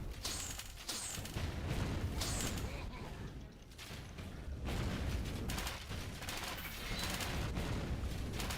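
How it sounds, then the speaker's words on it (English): Skeleton archers in Torchlight 3 loose a steady barrage of ranged shots at the player, dense clattering impacts and combat effects running continuously under game music. "Ah, someone's shooting at me."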